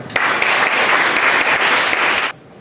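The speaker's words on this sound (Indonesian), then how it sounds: "Oke, kita tepuk tangan ya." A class claps together during a school counseling lesson, a loud burst of applause lasting just over two seconds before stopping abruptly.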